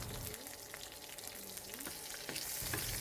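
Whole cumin seeds, a broken dried red chili and slit green chilies sizzle in hot oil, the start of an onion-stalk fry; a steady, close crackling hiss with occasional stirring, no talking.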